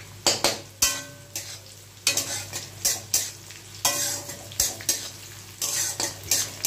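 Onion and garlic frying in a pan with poppy seeds added, a bright sizzle broken by rhythmic, loud spatula scrapes and clinks against the pan, repeating steadily and close, with no talk.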